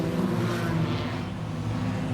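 Stock cars in an enduro at Langley Speedway roar around the track, a steady engine drone from a distance with no talk.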